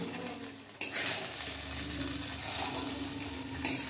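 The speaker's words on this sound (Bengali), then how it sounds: "সব কিছু দেওয়া হয়ে গেছে, খুব ভালো করে এখন মিশিয়ে নেব" Vegetable fried rice is tossed and mixed in a pan, a soft continuous sizzle and rustle with two sharper clatters of the utensil against the pan, near and moderately quiet.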